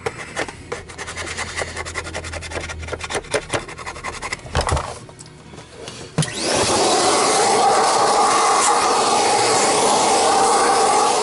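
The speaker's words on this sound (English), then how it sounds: "I'm just gonna scrape the rest of this off" A screwdriver scrapes old residue off a Miele SEB 213/217 power nozzle part in quick, rough rasping strokes at close range, then a loud steady motor drone takes over.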